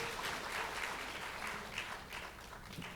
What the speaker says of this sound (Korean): 박수를 한번 맞아주시기를 바랍니다